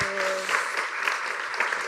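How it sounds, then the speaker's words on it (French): Audience applause at a graduates' quiz event, a brief, moderately loud burst of clapping that begins just after a short tone and continues steadily. "on l'applaudit"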